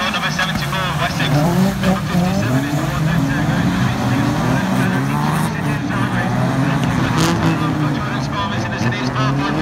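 Class 6 race cars at a motorsport heat roar off together in a loud, continuous mass of revving engines and tyre noise, with commentary talk running over the top.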